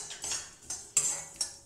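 Whole spices, among them dhania, ajwain, jeera, pepper, cinnamon and long pepper, are dry roasted in a metal kadhai, with a spoon scraping and clinking against the pan in four quiet, separate strokes.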